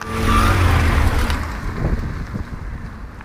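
A Renault Clio E-Tech hybrid drives on the road, giving a steady rumble of tyre and wind noise that starts loud and eases somewhat, with no talking.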